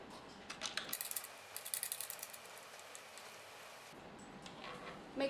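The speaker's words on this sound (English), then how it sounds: "Then we tighten the screws." Screws being tightened into speaker cable terminals on radio studio equipment, with quiet close-up ratcheting clicks and small mechanical ticks in short bursts over a low background hum.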